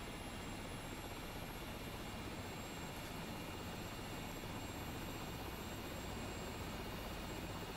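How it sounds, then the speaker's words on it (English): A Rotorway Exec helicopter's rotor spinning up in Microsoft Flight Simulator, heard as a dense, steady broadband roar with a faint high whine, loud and unchanging throughout, with no voices. "Wait for our rotor RPM to come up."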